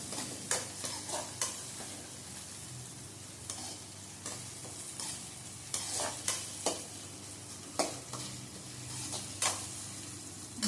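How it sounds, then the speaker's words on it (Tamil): Onions and tomatoes saute in a pan for mango anchovy fish curry, a soft frying sizzle broken by repeated scraping strokes of a spoon at a steady, rhythmic pace. "வெங்காயத்தையும் தக்காளியையும் நல்லா வதக்கி"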